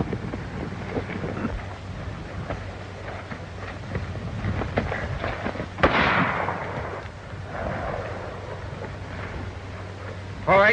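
Fireworks go off in an old western movie, with scattered pops and crackles and a louder burst midway over a noisy, rumbling film soundtrack.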